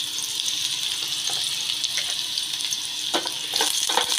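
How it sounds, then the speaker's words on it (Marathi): Finely chopped onion frying in hot oil with garlic, a steady close sizzle with a few brief crackling bursts toward the end, and no voices. "कांदा ही छान परतून घेते मी"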